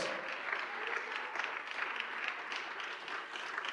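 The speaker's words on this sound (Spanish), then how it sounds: "Denle un aplauso al Señor en esta tarde" Congregation in a church claps together in praise, a dense and fairly distant wash of applause holding steady for a few seconds.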